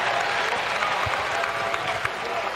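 A basketball crowd at a men's college game against the Milwaukee Panthers fills the arena with steady, dense applause and cheering around a free throw, loud and continuous with no pauses.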